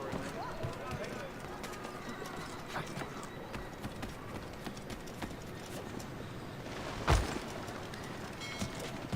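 Horses clip-clop in the video game Assassin's Creed III, a steady patter of hooves under a busy city ambience with a brief sharp thud near the end.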